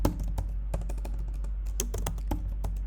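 Rapid, irregular keystrokes on a computer keyboard while code is typed, close and clear, with no talking.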